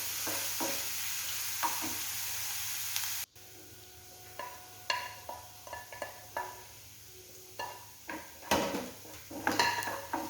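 Onions and curry leaves frying in a pan crackle and sizzle under repeated scraping stirs of a spoon against the metal, with the sizzle swelling as the leaves go in partway through.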